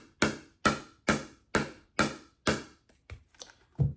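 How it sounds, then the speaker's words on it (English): A pickleball is struck repeatedly with a Ruby paddle, about six sharp, evenly spaced close pops followed by a few softer, quicker taps. "this is my Ruby that I normally use, and this is the sound of hitting the ball."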